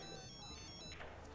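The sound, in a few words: mobile phone ringtone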